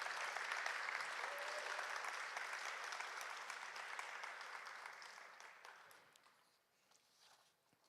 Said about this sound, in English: Let's give our students from Solace a round of applause